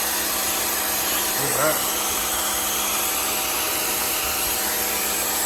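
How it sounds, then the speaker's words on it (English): A pressure washer blasts a BBQ smoker clean, producing a loud, unbroken high hiss and motor drone throughout, with a short spoken comment partway through. "The pressure washer."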